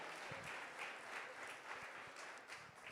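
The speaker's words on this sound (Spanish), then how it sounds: "Un aplauso al Señor." A church congregation applauds the Lord during a Spanish-language sermon, steady sustained clapping from many hands, even and somewhat distant throughout.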